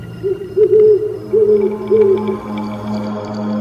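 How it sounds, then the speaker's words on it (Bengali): An owl hoots from a bamboo grove beside a field at night, four clear wavering hoots in sequence, fairly close and alone over a steady low hum. "বাঁশ বনের থেকে একটা প্যাঁচার ডাক শোনা গেল"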